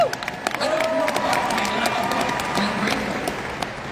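A live political talk-show audience in Canada claps and cheers, a dense wash of applause running steadily for a few seconds.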